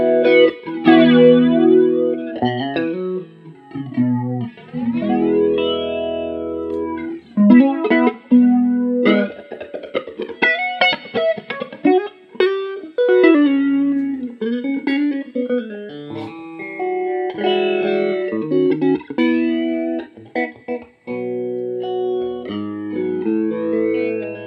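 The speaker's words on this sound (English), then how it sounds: "So it's quite a pretty flanger." Electric guitar played through an Ibanez Airplane Flanger AF2 effects pedal, sweeping jet-like flanged chords and single notes that ring loud and close, alone with no talk throughout.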